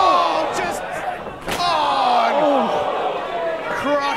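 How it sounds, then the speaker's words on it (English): A wrestler is thrown through a door during a no-rules street fight in a ballroom. One sharp, loud crash rings out against the sustained cheering and yelling of the crowd, while a voice talks over the din. "So you've just seen me being thrown into a door"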